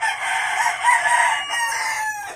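A rooster with abnormally long toes lets out a loud, sustained crow up close, the drawn-out call filling the moment before trailing off.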